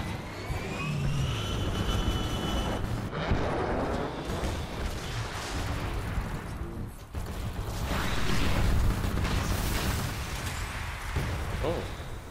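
An aircraft taking off in a video game, a steady broadband engine roar that swells and surges throughout, with heavy low rumble and occasional louder bursts.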